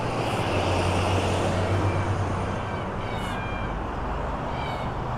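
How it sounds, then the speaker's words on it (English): Black cockatoos perched on a post in Innisfail, Queensland, Australia give distant, faint calls over a steady low rumble that sounds like an aircraft or traffic drone. "you can hear the black cockatoos"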